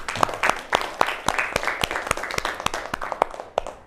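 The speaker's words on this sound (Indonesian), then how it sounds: "beri tepuk tangan untuk ini." A school class claps after a lesson, sharp individual hand claps standing out over a looser patter of many hands, close and uneven, with faint voices underneath.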